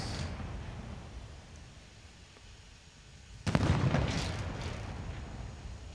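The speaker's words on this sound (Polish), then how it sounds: "Naboje dym, błysk, czyli dają tylko huk, trochę dymu." Military blank cartridges are fired at a Polish Army Day ceremony marking the centenary of the Battle of Warsaw, one sudden loud bang in the open air that rolls and echoes away over a low background rumble.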